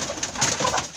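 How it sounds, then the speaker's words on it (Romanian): A flock of about fourteen hens and one rooster in a neighbour's yard makes close, steady clucking and cooing that runs continuously through the second with no talk. "Sunt vreo 14 găini și un cocoș, cred."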